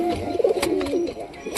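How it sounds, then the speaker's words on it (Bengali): Home-loft pigeons, several pairs nesting again, coo nearby in a soft, throaty, rolling phrase, with a faint clatter and rustle behind. "মোটামুটি আমার 2 থেকে 3 জোড়া কবুতর আবারও বাসা করতেছে"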